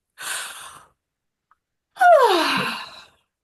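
A voice imitates the tail end of a yawn: a short breathy exhale, a brief pause, then a longer sighing, falling moan that trails off, close and clear with no other sound.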